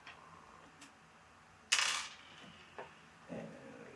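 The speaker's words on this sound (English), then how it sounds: "you do need to undo the screws that are hidden by it." Screws being removed from a Roland DP-10 sustain pedal: a few faint, sparse clicks and one sharper metallic tick as a screw comes free, close and quiet in a still room.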